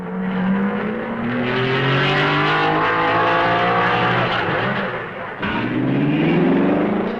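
1955 Grand Prix racing cars, including a Lancia, at the Spa circuit in Belgium near Raidillon and Eau Rouge, engines loud and close, rising and falling through gear changes with a brief dip before surging again.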